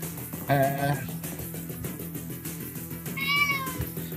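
Two distinct cat meows in the video game Ori and the Will of the Wisps, one early and a higher one later, over a quiet background hum.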